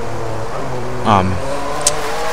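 A Ferrari F50 in the Driveclub racing video game revs hard in one short engine surge that climbs and fades within about a second, over a steady background drone and beneath a voice talking throughout.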